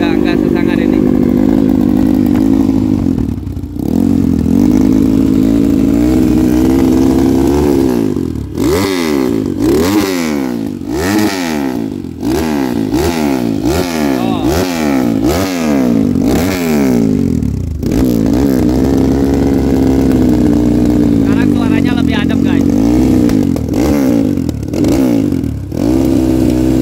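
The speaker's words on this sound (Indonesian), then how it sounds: "Oh, suaranya sekarang lebih adem karena knalpotnya baru." Sport Trail 150 4T four-stroke motorcycle with a new exhaust, a loud close engine that idles steadily, then revs up and down repeatedly in quick rising-and-falling bursts before settling back to a rumbling idle, with people talking over it.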